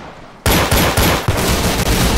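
An AK-74 in the video game Arsenal fires a rapid burst of loud, close automatic shots in a quick, even rhythm.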